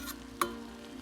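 Sweet and sour noodles are tossed with sauce in a hot pan, a quiet steady sizzle with one sharp utensil knock against the pan partway through, no voices.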